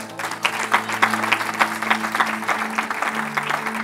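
A church congregation applauds in a steady patter of clapping, with a sustained musical tone underneath.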